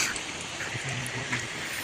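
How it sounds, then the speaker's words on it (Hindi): Steady rain pattering on a surface, a dense, continuous hiss with occasional heavier drops. "अब और जोर से बारिश होगी"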